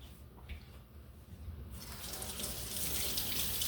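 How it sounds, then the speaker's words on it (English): Water from a kitchen tap running into a sink during handwashing, starting softly with a few splashes and then swelling into a steady, close gush. "I'm going to wash my hands"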